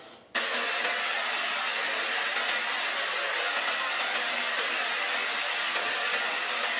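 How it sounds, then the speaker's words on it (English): A blow dryer switches on and runs with a steady, loud, close whooshing roar while drying a section of detangled hair, with no pauses and no voices. "I like to just detangle a little bit before I go through the section with the blow dryer"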